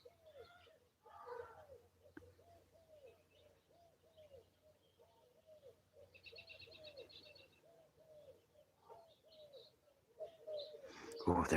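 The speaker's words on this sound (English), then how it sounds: "Sometimes I like to come out and listen to the birds too." Repeated cooing calls from a dove carry on steadily outdoors, joined by scattered chirps and a brief trill, ending with a loud rustle close by.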